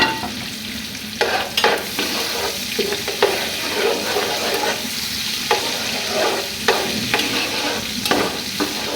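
Onions frying in a pan with cardamom, cinnamon and bay leaf, a steady close sizzle broken by repeated scraping stirs of a spoon against the pan.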